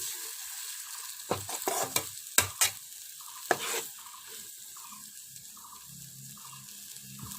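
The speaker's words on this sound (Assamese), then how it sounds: "পানীখিনি দি মই এনেদৰে লৰাই দিছোঁ।" Spices and water are stirred in a cooking pan for an egg, eggplant and tomato dish, with scraping clatters and sizzling bursts early on, then a quieter steady simmering hiss with soft bubbling.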